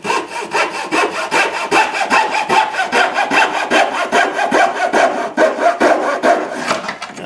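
A hacksaw cuts through a workpiece marked from a template in rapid, even back-and-forth strokes, loud and close, about twenty rasping passes with no voices.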